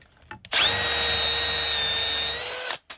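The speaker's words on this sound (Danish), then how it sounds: "Så tager jeg Forstnerbordet og borer mine huller." A power drill with a Forstner bit bores a hole into wood, spinning up to a loud, steady high whine for about two seconds before winding down, with no talk over it.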